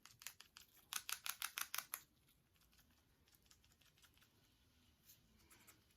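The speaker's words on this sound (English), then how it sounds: "I'm gonna sprinkle this purple sand around." Purple sand sprinkled by hand onto paper makes a quick run of soft, dry patter bursts close by for a couple of seconds, then fades to faint room hush.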